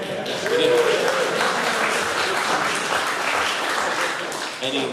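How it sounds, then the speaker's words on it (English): A crowd claps and cheers steadily for several seconds, a dense wash of applause with voices mixed in. "we'll get some cheering"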